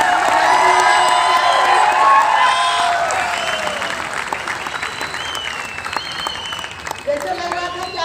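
An audience in a hall at a DXN Freedom Day 2019 motivational event in Bhubaneswar bursts into loud clapping mixed with cheers, whoops and high shouts. The noise is strongest at first, then eases into scattered clapping and calls.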